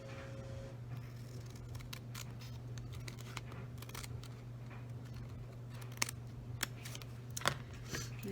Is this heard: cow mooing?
no